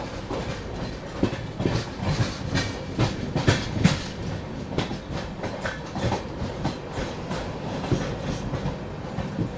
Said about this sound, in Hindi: राप्ती सागर निकल रही है